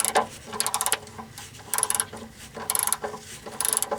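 A 16mm Harbor Freight wrench works a snug fastener on a vehicle during an oil and filter change and grease job, giving bursts of quick ratcheting clicks in four separate spells with short pauses between.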